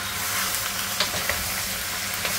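Beef and tomato sautéing in a pan give a constant hissing sizzle with occasional light stirring clicks, close and steady with no voices.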